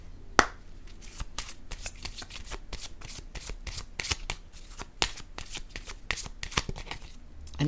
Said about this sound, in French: Je vais déposer une carte rose.